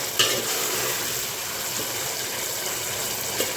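Sponge gourd frying in hot oil while being stirred, a steady, close sizzle running the whole time with a couple of faint scrapes of the spoon and no voices.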